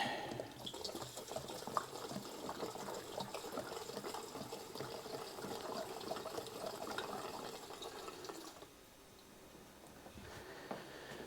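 Two-stroke fuel pours into the tank of a 1995 Honda CR250 motorcycle, a continuous close gurgling splash that stops abruptly near the end, leaving quieter background.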